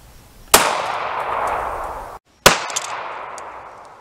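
Two sharp reports from a .380 pistol firing jacketed hollow point rounds into bare ballistic gel, each a loud crack with a long ringing decay, about two seconds apart and separated by a brief dead gap.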